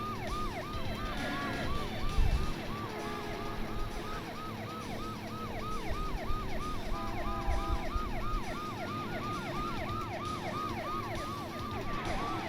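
Police car siren from the game Driver 2, a rapid repeating wail that cycles steadily over engine rumble and road noise during a chase, loud and close throughout.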